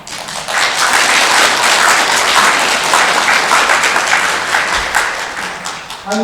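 Steady, loud audience applause rolls through a lecture hall on Korean traditional folk painting and lacquer art, sustained dense clapping that fades slightly before a voice cuts in at the very end.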